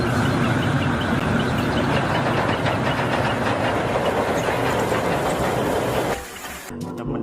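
A small battery motor whirs and rattles steadily as a Thomas toy train runs along its track, then the noise abruptly stops near the end.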